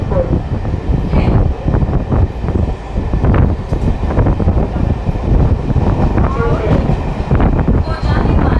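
Katni–Chirmiri MEMU passenger train running, a steady loud rumble of wheels and carriage rattle with rhythmic clatter throughout, heard from inside the coach, with faint voices in the background.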